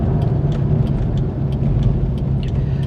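A 2000 Chevrolet Corvette C5's exhaust rumbles steadily and loudly at a constant cruise, deep and throaty with a low growl throughout.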